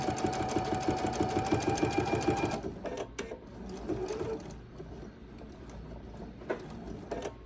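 A sewing machine stitches quilt binding in a fast, loud, rhythmic run that stops after about two and a half seconds, followed by quieter handling and rustling of fabric.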